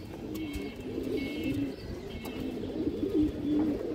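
A pigeon coos in a repeated series of soft, low, rolling calls close by, with faint background hiss and no speech.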